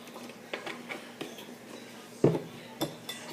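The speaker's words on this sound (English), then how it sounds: "And whisk that." A fork whisks milk for French toast in a bowl, tapping in light, irregular clinks, with a couple of sharper knocks near the end.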